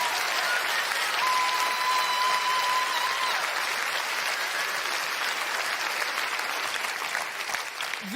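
A theatre audience at a comedy show applauds in a steady, dense wash of clapping that lasts several seconds at moderate volume, then begins to thin toward the end.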